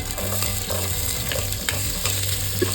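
Medium onion and tomato sizzle steadily in hot oil as the tempering for a Mandya-style broiler chicken sambar, with repeated scraping stirs of a spoon against the pan.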